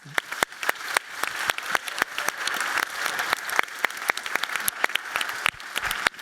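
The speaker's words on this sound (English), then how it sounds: "a round of applause" An audience at a panel discussion applauds, many hands clapping in a dense, fairly faint wash with several sharper, closer claps standing out, and a voice briefly audible.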